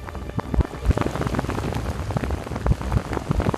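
Heavy rain pours down on a high mountainside at about 3300 m in Shangri-La, China, a dense, loud, continuous downpour with irregular heavy drops striking nearby surfaces.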